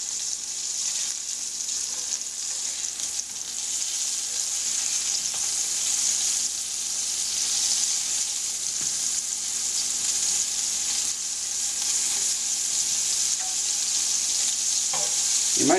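Floured venison medallions fry in a hot pan, a steady, close, loud sizzle that holds evenly throughout with a few faint clinks and stirring touches near the end; no one speaks.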